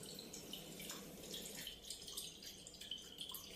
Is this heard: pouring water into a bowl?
yes